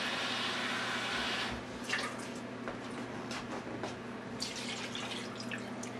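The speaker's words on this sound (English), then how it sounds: "So I put in a bit of water." Water poured into a pressure cooker with a rack inside, a steady splashing trickle under a constant background hum, fairly faint and close, with no talk.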